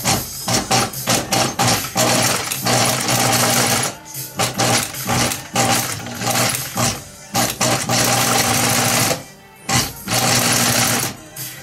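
Sewing machine stitching leather for a journal, loud and close, running in rapid mechanical bursts with brief stops between runs and a longer pause near the end.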